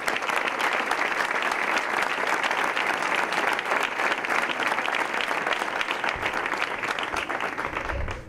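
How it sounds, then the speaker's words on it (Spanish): An audience at a presentation of the Spanish Doma Vaquera championship claps in sustained, dense applause, loud and even throughout, fading slightly at the end. "estos aplausos que habéis dirigido"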